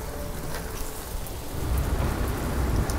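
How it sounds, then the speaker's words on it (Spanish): Heavy rain pours steadily during a storm at an old hacienda, a dense close hiss that grows louder midway, with a low rumble beneath and no talk. "está más fuerte la lluvia"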